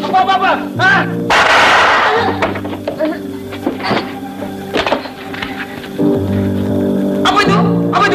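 Sharp gunshots ring out in a Malay film scene, several loud cracks spread unevenly over the stretch amid echoing clatter, with people speaking between the shots.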